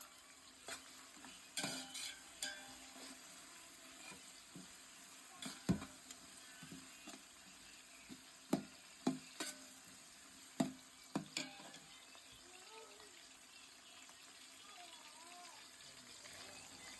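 Ingredients frying in a pan for chicken biryani, a soft steady sizzle broken by sharp clinks and scrapes of a spoon stirring at irregular intervals, and a voice talking quietly now and then.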